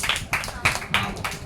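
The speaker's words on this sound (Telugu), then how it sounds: "ఒకసారి హాముకి చప్పట్లు కొట్టండి అందరూ." Sunday school group clapping for a child named Hamu: sharp, loosely spaced claps come in a steady beat of roughly three per second, mixed with murmuring voices in a room.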